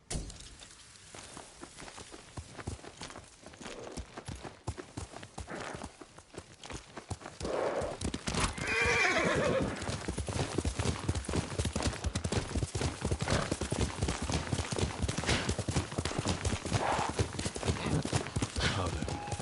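In the video game Ghost of Tsushima, rapid hoofbeats clatter in a rhythmic clip-clop, growing louder and busier partway through, with a brief whinny-like cry in the middle.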